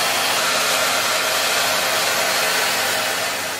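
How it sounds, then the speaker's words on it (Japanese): A hair dryer blows steadily and loudly at close range while drying hair, a constant whooshing roar with no talking that eases slightly at the end. "でこれで乾かします。"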